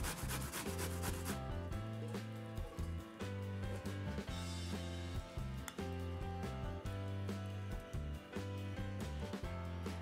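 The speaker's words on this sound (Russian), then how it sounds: "В первую очередь натираем кабачки на крупной терке." Courgettes grated on a coarse kitchen grater give steady, rhythmic rasping strokes, close and continuous, over a constant tonal musical background.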